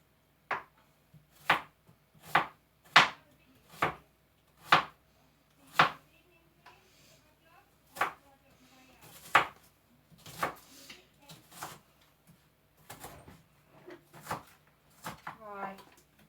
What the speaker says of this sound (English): now we chop this onion.